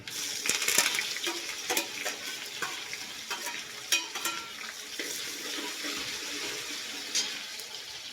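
Onions fry in a pan for a whole mung bean dal, giving a steady crackling sizzle with scraping stir strokes and small clinks, moderately close and with no talk over it.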